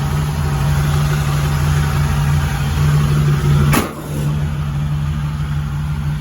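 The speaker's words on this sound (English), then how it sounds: "Motor runs out nice." 1951 Chevy 3100 pickup with a swapped small-block V8, idling loud and close with a steady low hum, briefly dipping as the throttle blips and settles back into the even idle.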